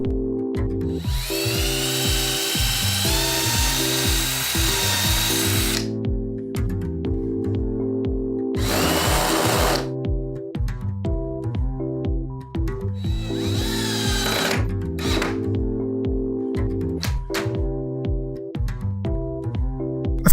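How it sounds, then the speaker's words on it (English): A power drill works on the lower front control panel of a scratch-built retro arcade cabinet, with several loud, sustained whining bursts of varying length separated by short pauses and a steady background hum. "Now to drill, countersink, and screw on the lower portion of the front control panel."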